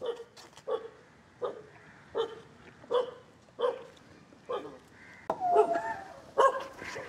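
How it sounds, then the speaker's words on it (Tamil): A dog barks repeatedly in short, evenly spaced barks at moderate distance, rising to a louder cluster near the end, with faint voices in the background. "நாய்டா"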